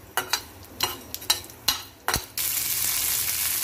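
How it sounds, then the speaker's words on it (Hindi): Chana dal and urad dal hit hot oil with mustard seeds, first giving several sharp, close crackling pops, then settling into a steady, loud sizzle. "राई के क्रैकल होते ही इसमें हम डालेंगे चने की दाल, और साथ ही उड़द की दाल, इनको भी फ्राई कर लेते हैं"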